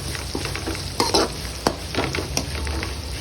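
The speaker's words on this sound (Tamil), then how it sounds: "பூண்டு பொடியாக நறுக்குனது, இது எல்லாமே கொஞ்சம் வதக்கி கொடுத்துடலாம்" Sliced onions, chopped garlic and ginger sauté in a pan with a continuous close sizzle, punctuated by several sharp spatula scrapes and clacks from stirring.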